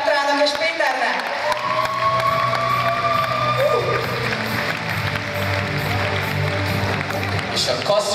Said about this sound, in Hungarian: Szóljon a taps Petrának és Péternek!